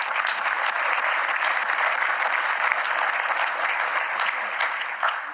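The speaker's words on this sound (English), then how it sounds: "if we could all just take a moment to applaud them" An audience gives steady, dense applause for teachers and school staff, a continuous wash of many hands clapping at even loudness throughout.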